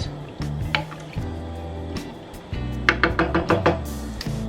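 Water pours steadily into a cooking pot, bringing it to eight cups for a vegetable soup, with a few hard knocks and clinks of the pot close by.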